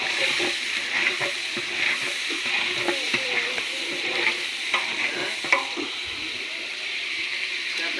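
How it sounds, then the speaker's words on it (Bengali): Sliced onions frying in a pan for birista, a steady sizzle with frequent scraping stirs of a spatula, close and moderately loud, with no talking. "আমরা বেরেস্তা পেঁয়াজ দিয়ে দিচ্ছি"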